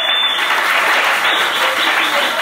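A church congregation breaks into loud, sustained applause, a dense and even wash of clapping that fills the room throughout.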